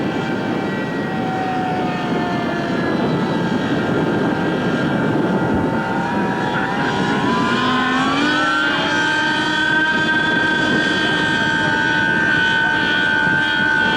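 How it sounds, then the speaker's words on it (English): A large Phantom jet takes off at an airshow, its engine roar building from a broad rumble into a rising, loud whine that sweeps upward and holds, heard from the crowd line. "Rather large phantom about to take to the skies. That's the way to get airborne."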